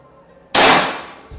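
A PCP Pasopati Big Game 4000 psi air rifle fires its fifth shot, a single sharp loud crack with a hissing burst of air that fades over half a second in a quiet space.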